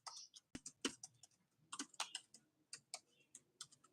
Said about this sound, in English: I'm gonna type this in here.